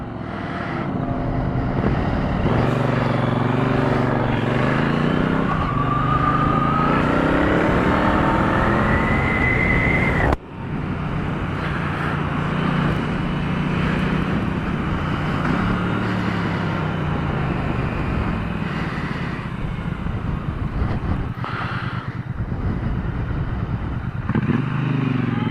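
A 2016 Triumph T120 motorcycle on the move, its engine loud and close with rising tones as it accelerates through the gears, a brief drop at a shift near the middle, then steady droning under wind rush with no one talking.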